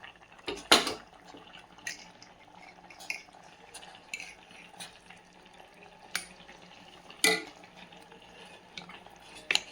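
Jaggery is stirred in a pan for pongal: faint, sparse scraping and clinking strokes of a spoon against the pan, spaced irregularly over a quiet background.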